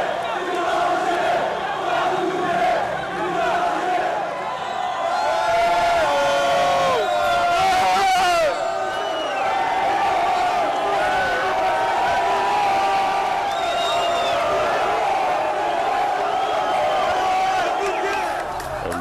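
A large crowd cheering and shouting in welcome for the Algerian national football team, loud and continuous, with whistles and chants rising and falling, and a voice talking over it.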